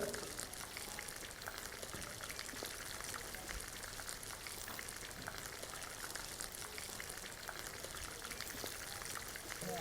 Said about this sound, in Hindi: अब प्याज को जो है ना, हमने करना है ब्राउन।